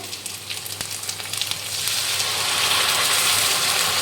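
Ginger garlic paste and masala frying in hot oil for a homemade chicken dish, a steady loud sizzle that swells into a dense crackling hiss and holds, close up with no talk.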